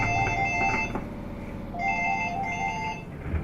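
A mobile phone ringtone plays close and loud, an electronic trilling melody in two bursts separated by a short gap.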